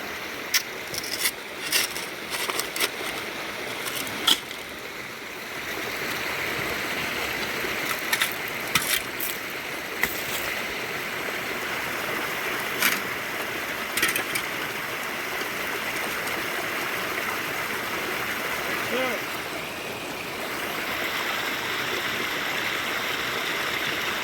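Water runs steadily through a gold mining sluice outdoors, a continuous rushing, gurgling flow with scattered small clinks and knocks over it, moderately loud and unbroken, without talk.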